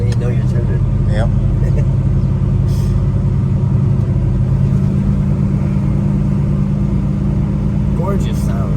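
A 1971 Chevrolet Chevelle's steady, deep engine rumble idles on without a break, loud and close, with faint clicks and small noises scattered over it.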